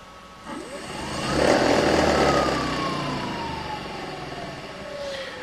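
BLDC electric motor on a 36V/48V 350W controller spinning up to full speed, a rising whine that swells loudly, holds, then winds down as power is cut.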